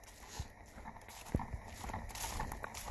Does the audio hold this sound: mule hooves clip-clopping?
yes